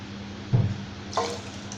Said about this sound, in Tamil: குருமாவுக்கு வந்து தேவையான அளவு தண்ணி சேர்த்துக்கிறேன்